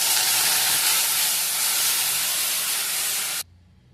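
Mashed lentil dal with water poured into a hot pan of fried red onions bursts into a loud, steady steam hiss close by, cutting off abruptly after about three and a half seconds.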